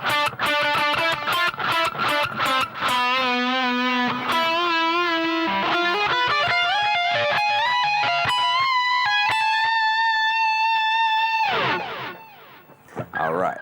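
An electric guitar plays a melodic solo phrase alone, quick picked notes rising into sustained, bending tones with a slightly distorted edge, ending in a short slide.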